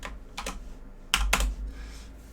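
Typing on a computer keyboard during an online engineering lecture, with short bursts of clicky keystrokes near the microphone and brief pauses between them.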